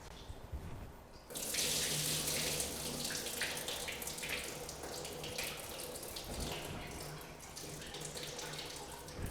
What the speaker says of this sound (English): And this rice has to be washed pretty quickly.